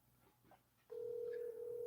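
A telephone call sounds a steady single tone that starts abruptly after a quiet moment and holds evenly to the end, like a dial or ringback tone on the line.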